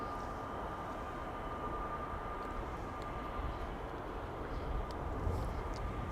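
A KM Malta airliner at Amsterdam Schiphol airport, a steady distant jet engine rumble and whine holding constant throughout, with no voices.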